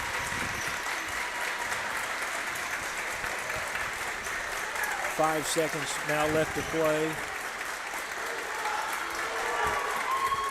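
Basketball fans in a school gym clap steadily in the closing seconds of a senior boys' game, a dense sustained wash of applause with a commentator talking over it and a brief horn-like tone midway.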